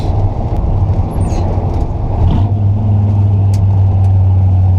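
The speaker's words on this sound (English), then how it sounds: "So if I want to shift really quickly, pull it up into high RPMs and just try to get as close as I can rev matching wise with the clutch." A truck with a three-on-the-tree column-shift manual gearbox, its engine droning loud and steady up close, dipping briefly partway through as a gear change comes before the hum settles back to a strong, even pitch.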